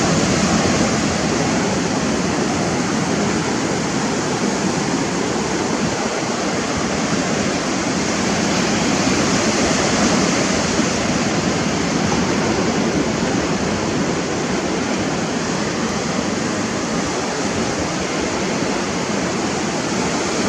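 Ocean surf rushes steadily and loudly throughout, a continuous broadband wash of breaking waves with no pauses and no talk.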